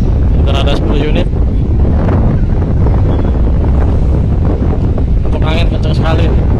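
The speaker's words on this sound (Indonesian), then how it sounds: "Untuk angin kencang sekali nih" Strong 30 to 40 knot wind buffets the microphone with a constant roar at the Bakauheni ferry pier at night, while waves and a voice can be heard in the background.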